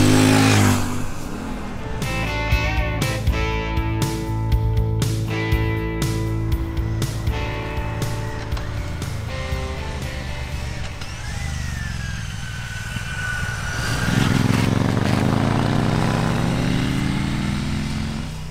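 A Royal Enfield Classic 650 Twin motorcycle riding on roads in Northumberland, its parallel-twin engine thumping steadily and rising and falling as it accelerates and revs, loud and close throughout with no talk.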